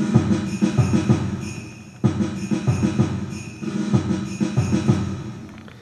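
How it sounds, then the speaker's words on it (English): Orchestral marching snare drums in a looping game soundtrack, with dense rolling snare patterns played over a busy, continuous musical backing that stays loud throughout. "orchestral drums, so like marching snares and whatnot"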